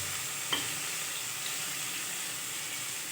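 Onion and tomato sautéing in ghee make a soft, even sizzle with a single light utensil tap early on, steady and close throughout.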